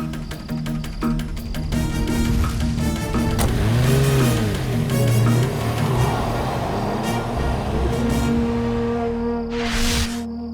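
An expensive car's engine revs and accelerates loudly at night, with rising and falling engine pitch sweeping through the middle, close and dominant, with no speech.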